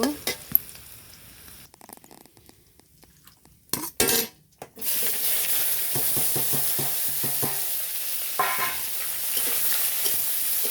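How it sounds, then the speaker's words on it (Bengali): A few quiet clicks, then a loud, steady sizzle of potatoes with salt and turmeric frying in oil takes over, with spatula clinks and scrapes against the pan. "আলুর মধ্যে লবণ হলুদ দিয়ে একটু লাল লাল করে একটু ভেজে নিব।"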